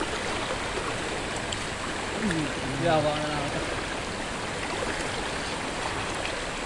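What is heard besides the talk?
flowing river water while fishing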